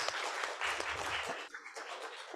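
An audience at a book presentation and roundtable gives a round of applause, moderately loud, dense clapping that thins out and fades after about a second and a half, heard at some distance.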